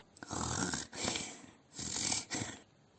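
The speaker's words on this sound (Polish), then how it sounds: "nie możesz tak do mnie chrapać" Snoring in two slow, rasping rounds, each a long breathy snore followed by a shorter snort-like rattle, fairly quiet and close with no talk over it.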